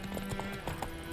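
Horse hooves clip-clop in The Witcher 3 on PS5, a quick steady rhythm of hoof strikes under game ambience and a faint tonal background.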